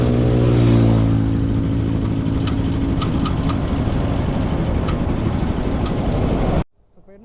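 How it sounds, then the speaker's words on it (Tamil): Motorcycle engine on a long road trip runs steadily at idle with an abnormal noise, a close, continuous throbbing hum with faint ticking, which cuts off abruptly near the end. "வண்டியில் வந்து ஏதோ சவுண்டு வருதுங்க, இன்ஜின்லேருந்து நாய்ஸ் வருதுங்க"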